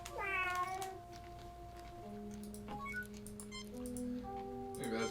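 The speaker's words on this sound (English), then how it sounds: "Terran cat, feeling very self-satisfied." A cat in the Star Trek: Judgement Rites video game gives a drawn-out meow at the start, then more tonal meows and chirps sound over soft ticking and game ambience.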